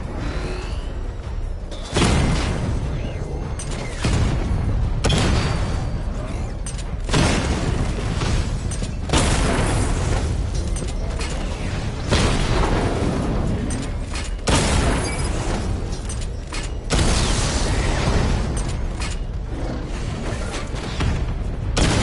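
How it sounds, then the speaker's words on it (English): Batmobile missile barrage in Batman: Arkham Knight: a long run of loud, heavy explosions, each a sharp boom that rolls into a roaring tail. The blasts are spaced a few seconds apart and come close and forceful throughout. "Charge up missile barrage to level 2 and destroy 4 active targets"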